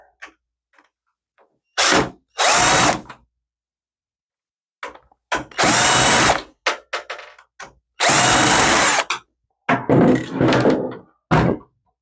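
Power screwdriver taking the screws out of the power supply of a Dell Vostro 230 slim desktop, with several loud whirring bursts of a few seconds each, separated by silences and small clicks and clunks.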